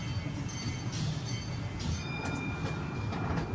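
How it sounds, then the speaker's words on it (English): A shark train ride rolls along with a continuous rumbling, clattering rail noise, steady and fairly loud throughout, with no talk. "This is a shark train ride."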